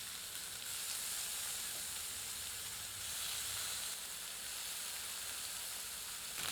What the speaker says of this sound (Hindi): इसके लिए हम एक ग्रिल पैन को थोड़ा ग्रीस करके इसे तेज आंच पर भूनते हैं।